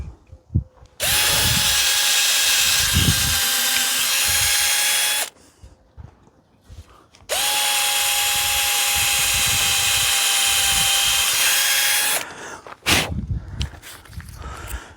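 A cordless power drill drives screws in two long sustained runs of a steady high whine, close and loud, separated by quiet pauses with faint handling knocks.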